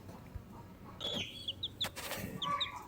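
Two newly hatched chicks from a Nurture Right 360 incubator give repeated high, thin peeps in short bursts over steady background noise, fairly faint and close.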